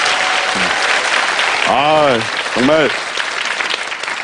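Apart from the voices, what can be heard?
audience applause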